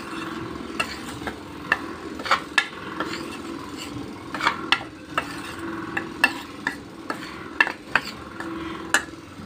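Two cups of flour, a pinch of salt and a spoonful of starch are stirred together in a bowl for a chocolate cake, with a spoon scraping and clicking in an uneven, repeated rhythm close up and no talking.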